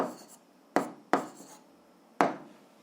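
Handwriting on paper while working a 7th-grade algebra exercise, three or four short scratchy pen strokes with pauses between them, close and soft, with no one speaking.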